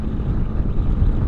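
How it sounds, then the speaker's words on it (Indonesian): Strong gusting wind buffets the microphone during a ride on a Honda CB150X motorcycle along a beachside coastal road, a continuous loud low roar with no voices. "anginnya makin kenceng"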